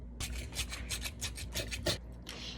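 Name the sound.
sanding a craft piece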